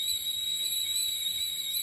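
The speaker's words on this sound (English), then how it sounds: "Looks like I'll just have to settle for the whistle of my own tea kettle." A tea kettle whistles steadily on a sustained high tone, loud and unbroken throughout with no speech.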